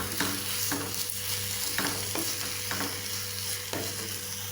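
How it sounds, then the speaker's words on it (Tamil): Raw mango thokku pickle sizzles in oil in a pan while a spoon stirs it, scraping in several distinct strokes over a steady frying hiss; close and clear, no voices. "இதை கொஞ்சம் நேரம் வதக்கிக்கலாம்."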